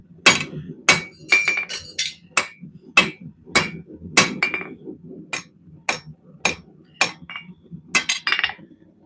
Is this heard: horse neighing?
no